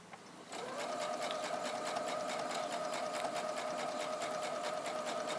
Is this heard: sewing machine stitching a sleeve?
yes